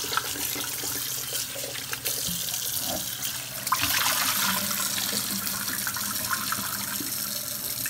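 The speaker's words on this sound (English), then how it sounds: "I'm gonna go ahead and rinse these. With some cold water." Cold tap water streams steadily into a sink as oxtails are rinsed under it, a close, constant splashing rush with small shifts as the meat is moved around, no talk.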